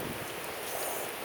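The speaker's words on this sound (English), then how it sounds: "It's raining even harder now." Heavy rain pours down steadily as a dense, even hiss with no breaks, heard up close and on its own.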